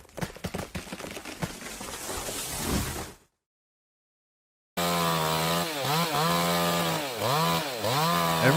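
A chainsaw cuts into a tree trunk with a loud, gritty roar. After a short silence the saw idles back up to a steady, close, harmonic engine drone that dips and surges in pitch several times.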